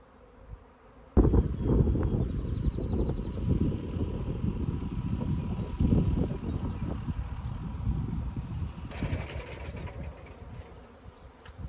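A honeybee swarm buzzing close around, a dense steady drone that starts abruptly and holds for over ten seconds, with no talking.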